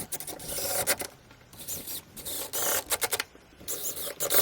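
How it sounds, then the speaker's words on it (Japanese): Plywood gap panel being screwed into place inside a small Suzuki Every van, close rasping and rubbing of driver and screws biting into wood in uneven bursts, with no voices. "外していた合板をビスで留めていきます。"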